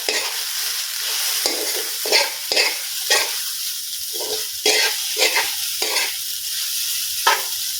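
Carrot fried rice being stirred in a hot pan, a steady sizzle broken by repeated scraping strokes of the spatula, close and fairly loud with no talking.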